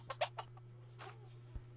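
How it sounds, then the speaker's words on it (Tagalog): A few quick, soft clucks from chickens, close by, over a low steady electrical hum. "ito mga manok naman guys"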